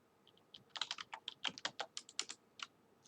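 Keys clatter on a computer keyboard in a quick burst of about fifteen close, crisp taps as a command is entered on a network switch, irregular in rhythm and with no voices.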